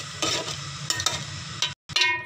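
Aloo baingan gravy with pepper, cumin and salt being stirred in a pan, soft repeated scraping and gentle sizzle in short bursts, with a brief pause near the end.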